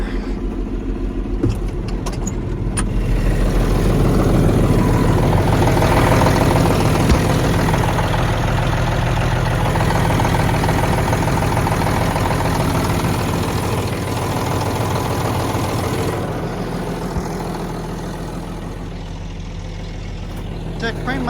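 A worn John Deere 8640 tractor engine idles after a cold start, a steady low rumble heard close and loud throughout, with some speech-like sound under it.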